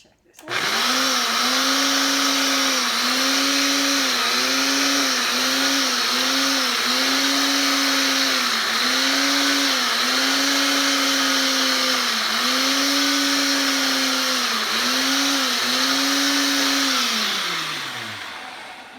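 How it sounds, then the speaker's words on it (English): A blender whips homemade whipped cream in a loud, steady motor drone lasting about eighteen seconds, its pitch dipping and recovering repeatedly as the load shifts, then winding down at the end. "See how it's whipping."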